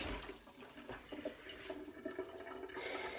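Broth being poured over a dish of food, a faint, soft continuous liquid splashing and trickling, heard quietly and alone.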